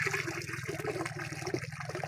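Irrigation water flows from a pipe into a garlic field, a faint, steady gushing and trickling with a low hum beneath it.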